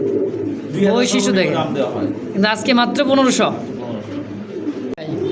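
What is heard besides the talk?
English Carrier pigeons cooing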